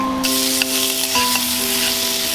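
Red lentil dal hitting a hot pan, giving a bright, steady frying sizzle that holds loud and continuous, with faint clinks as it is stirred.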